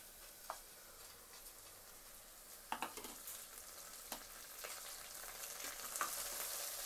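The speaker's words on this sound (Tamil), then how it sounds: "முருங்கைக்கீரை போட்டு நல்லா கிளறி விட்டுக்கலாம்." Drumstick leaves dropped into oil with fried onion sizzle faintly under a low hiss, broken by scattered scraping stirs and light clicks of the spoon against the pan.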